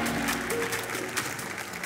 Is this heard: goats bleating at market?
no